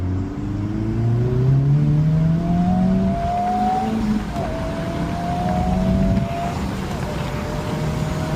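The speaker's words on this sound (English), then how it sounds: "Alright, this is a slow roll acceleration, second gear pull." Honda Civic Type R FL5 making a slow-roll second-gear pull, its engine note climbing steadily in pitch, loud and continuous throughout with a brief shift in tone midway.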